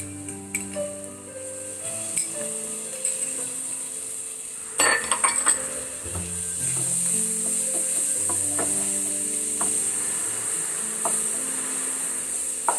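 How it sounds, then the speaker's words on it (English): Ginger garlic paste sizzles steadily with fried onions in a home-cooked masoor pulav pan, a continuous hiss with scattered clinks and stirring scrapes of a utensil against the pan, with no talking. "Now that the onions are nicely fried, I will now add the ginger garlic paste."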